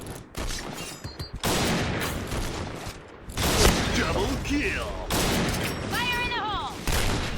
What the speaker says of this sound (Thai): ดีเออาวันนี่ เสียงกระสุนจะค่อนข้างเบานะครับ